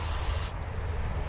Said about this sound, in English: spray a little bit of carb cleaner on this steel wool